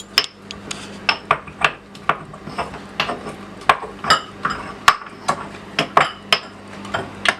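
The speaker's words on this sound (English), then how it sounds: "if you beat the garlic down, it really brings out the flavour of the garlic" Garlic is pounded into a paste with repeated sharp strikes in a mortar, irregular but steady, with ringing clinks of pestle on hard stone, loud and close, no talking.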